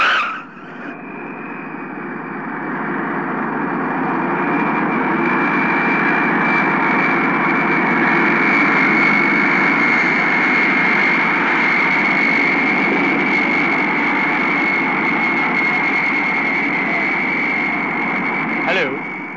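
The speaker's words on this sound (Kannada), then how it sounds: "the flight is just coming in right now, it's about to land" A jet airliner coming in to land makes a loud, steady roar with a high whine running through it. The sound holds almost unchanged for the whole stretch.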